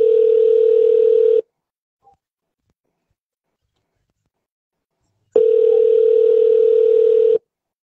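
An outgoing phone call produces a ringback tone as two long steady tone bursts, each lasting over a second, separated by about four seconds of silence, clear and close, with no talking.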